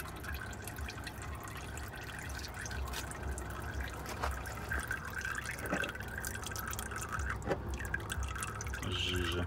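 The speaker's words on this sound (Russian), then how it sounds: "Сейчас масло сливаю." Used engine oil draining from a long-haul truck during routine summer servicing, a steady trickling, dripping pour that runs continuously at moderate level over low background rumble.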